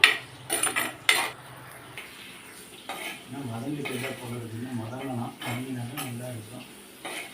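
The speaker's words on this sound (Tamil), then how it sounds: "இந்த பாவக்காயை ஃபஸ்ட்டு நல்லா நம்ம வதக்கி கொடுத்து ஒரு கலர் மாறுற வரைக்கும் நம்ம இது நல்லா வறுத்து எடுத்து விடலாம்" Bitter gourd sautéing in a pan while a spatula stirs it, with sharp metallic clatter and scraping in the first few seconds, a soft sizzle underneath, and a voice talking steadily over the cooking sounds later.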